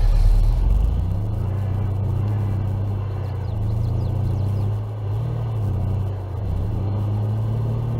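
Vehicle driving along a road in Farming Simulator 22: a steady low engine rumble that holds at an even pitch, dipping slightly a couple of times as if shifting or easing off, with no talk.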